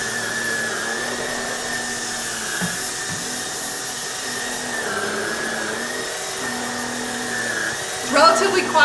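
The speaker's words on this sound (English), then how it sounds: "So obviously it just works like a regular vacuum" A Trucozie cordless stick vacuum cleaner runs with a steady whining motor hum, fairly constant with slight pitch shifts as it moves, ending with a few clattering knocks.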